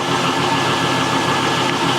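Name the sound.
LS-swapped Monte Carlo SS engine idling, long tube headers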